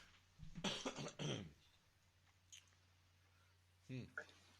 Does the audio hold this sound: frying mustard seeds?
no